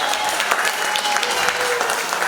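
Brief audience applause at a pre-K graduation ceremony, a steady burst of clapping from a crowd with a faint voice underneath.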